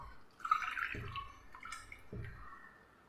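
Coconut milk is poured from a cup into a mixer jar, a soft close splash and trickle with a couple of gentle liquid glugs, quiet and alone.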